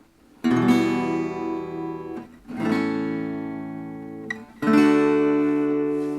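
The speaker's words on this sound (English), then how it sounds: "we can play it without the 7ths. It's going to sound like this." Three sustained chords without sevenths played in sequence, each ringing out before the next, with no talking.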